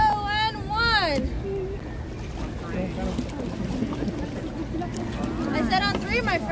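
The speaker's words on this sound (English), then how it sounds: "Now on three, my friends, we're gonna start paddling." Canoe paddling on the Davy Crockett Explorer canoes at Disneyland, with water splashing and wind noise under people shouting and chanting together in the boat.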